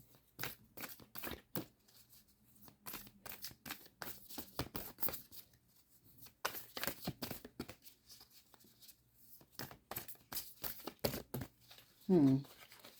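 Close, crisp riffling and snapping of playing cards repeats in quick bursts throughout, with brief pauses and a soft voice near the end.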